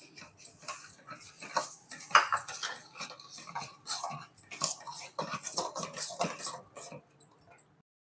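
A spoon stirs sugar into almond rava kesari in a pan, giving close, busy metallic clinks and scrapes in an uneven rhythm throughout, with no talking.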